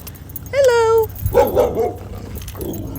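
Two problem dogs found near a trap give a rising whimpering whine, then a short bark, close by, with a person's voice talking softly between the sounds.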